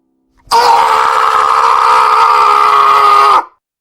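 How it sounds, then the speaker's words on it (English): A man screams loudly in one sustained, strained cry lasting about three seconds, close and raw, then cuts off into silence. "I heard Brian scream."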